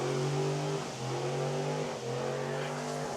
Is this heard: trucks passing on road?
yes